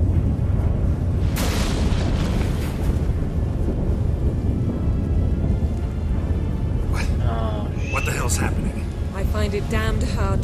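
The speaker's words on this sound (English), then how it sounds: "That a storm?" A thunderstorm rumbles in The Witcher 3 as a dense, continuous roar with a sharp crack near the start, while voices talk over it toward the end.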